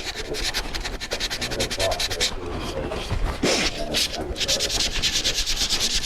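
Sandpaper rubs back and forth over curly wood that has been dyed, making a close, loud, rhythmic scratchy swish in rapid regular strokes that continues throughout, with a brief slower stretch in the middle.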